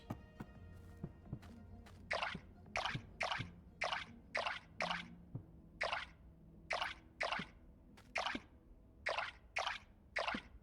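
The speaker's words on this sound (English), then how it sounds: "And we need to water this." Crops being watered in the video game Core Keeper, a series of about fifteen short splashy pours in an even rhythm, each one crisp and separate, over faint game background sounds.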